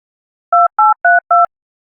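A telephone being dialed gives four short, loud, evenly spaced two-pitch keypad beeps in quick succession, each lasting a fraction of a second, with silence before and after.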